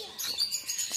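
Caged lovebirds at a deer park in Dehradun give a quick burst of high, busy chirping, fairly close and with no talk over it.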